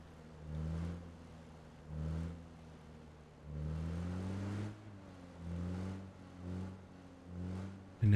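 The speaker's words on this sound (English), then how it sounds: "Started his engine again." A vehicle engine in the video game PUBG, revving in repeated surges with rising whines and short pauses between them, moderately distant and fairly quiet.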